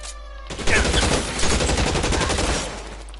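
Dense volleys of gunfire from a 1940s-style shootout in L.A. Noire burst out after a brief lull, a loud, continuous fusillade of rapid shots that carries on for several seconds before easing off.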